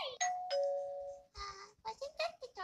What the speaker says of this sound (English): Wasn't that the doorbell?